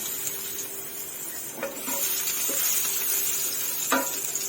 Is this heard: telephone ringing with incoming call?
no